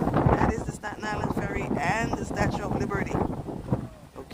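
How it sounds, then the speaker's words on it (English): Strong wind buffets a handheld microphone on a very windy day at Brooklyn Bridge Park in DUMBO, a heavy low rumbling roar that gusts continuously under a person talking. "That's the wind blowing my gimbal, my hand, and me."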